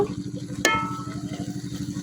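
Gourd leaves cook in a pan outdoors, giving a steady soft sizzle and bubbling with one sharp scrape of a spoon against the metal as they are stirred, and no voices.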